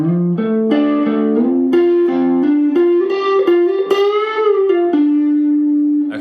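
Electric guitar playing a minor pentatonic lick that slides up into the next scale shape, a fluid run of sustained single notes with bends and slides, loud and close with no voices.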